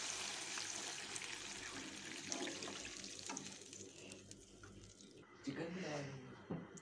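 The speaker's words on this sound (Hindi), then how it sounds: "अब मैं इसके अंदर यखनी शामिल कर रही हूँ।" Yakhni stock is poured into fried spices in a cooking pot, a faint, quiet stream of liquid splashing for several seconds with a brief louder gush near the end.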